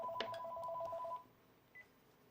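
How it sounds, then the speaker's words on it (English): A telephone rings indoors. A steady electronic ring lasts about a second, then cuts off, leaving quiet room tone and one brief faint tone afterward. "And here goes the phone."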